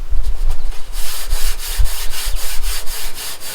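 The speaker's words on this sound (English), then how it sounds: "I'm going to hit right here with some sandpaper" Sandpaper scuffing over primer on a 1963 Ford Falcon Futura body panel, loud close rhythmic strokes in a quick back-and-forth pattern of about a dozen passes.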